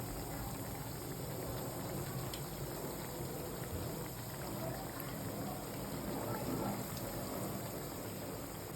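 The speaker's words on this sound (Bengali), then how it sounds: "এখন এক সাইড ভাজি হয়ে লাল হয়ে গেছে" Vegetable pakoras deep-frying in oil make a soft, steady crackling hiss, fairly faint and continuous like light rain, with no voices.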